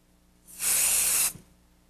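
A single steady hiss of fabric spray about half a second long, bright and close, applied to Minkee fabric for quilt sewing, with no talk over it.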